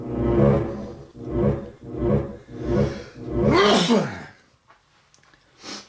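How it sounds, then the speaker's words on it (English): A single loud sneeze bursts out near the microphone after a few seconds of low, rhythmic rumbling, then quiet follows. "I have a sneeze."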